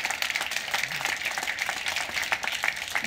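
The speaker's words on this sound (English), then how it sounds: "So big applause" Applause from the audience at the close of a patient-technology challenge event, a steady, moderately loud patter of many hands clapping that carries on throughout.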